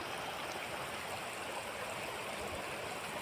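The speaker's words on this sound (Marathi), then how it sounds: "या मळे नाल्याला फुल पाणी आलेलं आहे" A flooded nullah running full after heavy rain, with fast water rushing steadily and loudly alongside flooded farmland where crops are damaged.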